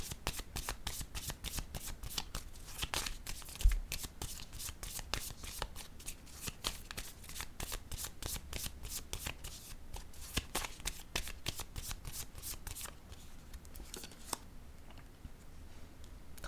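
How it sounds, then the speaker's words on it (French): Playing cards being drawn and shuffled during a card game: a rapid, continuous riffle of crisp flicking and snapping up close, with faint voices briefly in the background. "je vais piger une autre carte"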